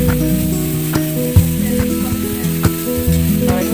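Chopped onions sizzle steadily in a pan for a chicken roast gravy, an even, close frying hiss with occasional stirring knocks, heard under tonal background music.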